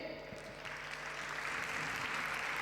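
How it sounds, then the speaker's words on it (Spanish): Sustained applause from an audience at a karaoke competition during the Mangamore 2023 manga convention, a dense wash of clapping that holds steady and swells slightly toward the end, fairly faint overall. "Vamos a recibir con un fuerte aplauso a nuestro primer jurado desde Donosti, Ele."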